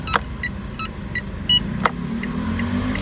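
Turn signal chime of a 2022 Mitsubishi Xpander Sport CVT on its second sound option, a series of short bright clicks or ticks repeating at a steady pace inside the cabin, faint engine hum beneath.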